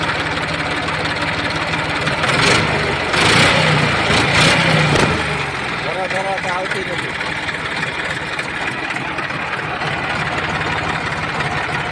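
A New Holland 4010 tractor with a 42-horsepower Simpson engine runs at a steady idle, a continuous mid-low rumble lasting the whole stretch, with a somewhat louder patch early on and people talking over it.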